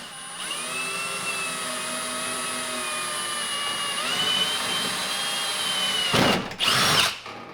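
A power drill drives a screw into a BMW E30 door panel, whining steadily at close range, its pitch shifting slightly under load, then briefly stopping and revving again in short bursts.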